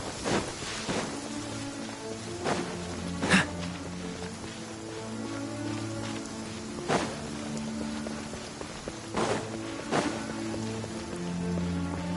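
Steady rain falls in the video game Genshin Impact, a constant hiss of drops with scattered sharper ticks and soft thuds throughout.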